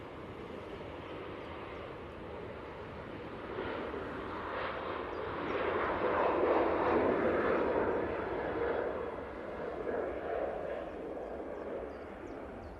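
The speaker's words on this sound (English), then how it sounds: "this Ryanair 737-800 off to Rabat" A Ryanair Boeing 737-800 departs Manchester Airport for Rabat, its jet rumble faint and distant, swelling gradually to a peak midway and then easing off, heard alone.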